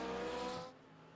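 An iRacing race car at Le Mans roars past up close, its loud engine tone dropping sharply as it goes by, then leaving a fainter hum.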